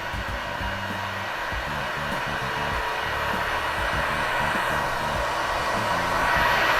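A hot air tool blows continuously and loudly, a steady, even rushing hiss that warms the glue around an iPhone 13 camera lens, with no break across the whole stretch.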